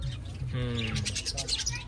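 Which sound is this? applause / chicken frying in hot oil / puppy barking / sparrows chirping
sparrows chirping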